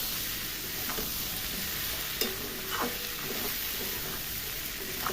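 A vegetarian dish stir-fries in a pan, a steady soft sizzle with occasional scrapes and clinks of a utensil stirring, close and fairly quiet, with no talking.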